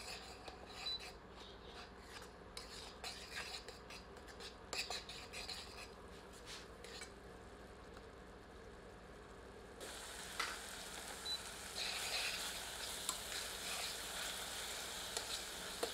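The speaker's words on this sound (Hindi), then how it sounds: "सबको मिलाकर 2 से 3 मिनट और भूनते हैं" Ground tomato paste being stirred and fried in a pan for chana dal, giving a steady rasping scrape and soft sizzle that grows louder and brighter in the later part, with no talk.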